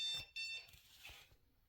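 A dog training collar gives off high electronic beeps, faint and brief, in a couple of short bursts amid soft background rustling in a home with a pet raccoon.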